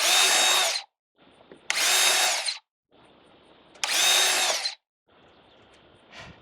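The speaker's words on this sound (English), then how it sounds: "drill a few holes" A power drill whirs loudly in three bursts of about a second each, drilling holes in a pipe cap, with quieter grinding and scraping between them, close by and with no voices.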